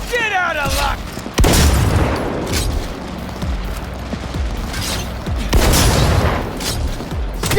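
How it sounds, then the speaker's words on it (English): Shotgun blasts in the video game Cyberpunk 2077, loud booming reports over a dense, continuous din of combat noise and mechanical clatter, with a couple of especially heavy hits standing out. "Shotgun ought to seal the deal."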